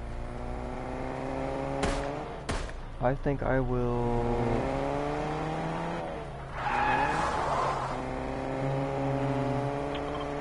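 Car driving in the Fortnite video game, an engine tone that revs and rises in pitch in several surges, with a couple of sharp impacts and tire noise, while a person talks over it.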